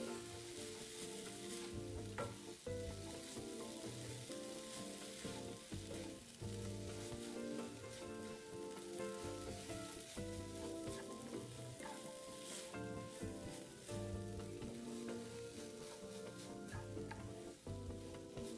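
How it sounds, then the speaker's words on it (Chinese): Jicama filling is stir-fried in a wok with sweet soy sauce, a continuous sizzle and scraping that sits under steady background music. "好了，酱油炒匀后即可熄火"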